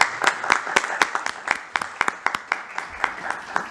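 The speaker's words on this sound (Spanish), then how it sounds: "Pues les pido también un aplauso" Scattered audience applause at a book presentation event, individual claps standing out sharply in an irregular, moderately loud patter that continues for several seconds.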